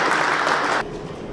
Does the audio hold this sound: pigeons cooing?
no